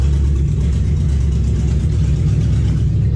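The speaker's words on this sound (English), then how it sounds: "Man, it's running better every time we start it." A car engine runs loud and close with a steady, throaty low drone and a slight rhythmic pulse throughout, with no voices over it.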